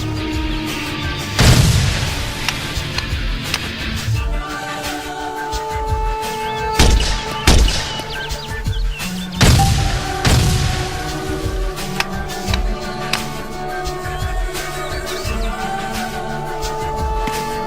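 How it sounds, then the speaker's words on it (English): Heavy weapon fire in the military shooter Arma 2: Operation Arrowhead on a firing range, sharp loud bursts at irregular intervals over a steady droning background. "Use the aiming reticule to properly range your targets and unleash the power of the weapon's high rate of fire"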